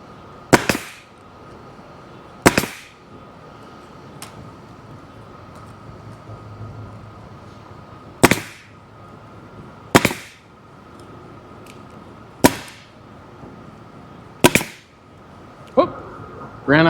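A staple gun drives staples into jet ski seat vinyl, giving about eight sharp, loud single snaps spaced a second or two apart over a quiet background.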